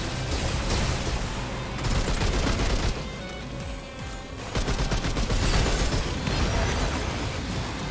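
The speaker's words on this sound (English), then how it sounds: "Side bombs." Side bombs exploding during a boss attack in Remnant 2, a dense barrage of booming blasts and rapid gunfire-like bursts that rolls on in loud waves, briefly easing in the middle before surging again.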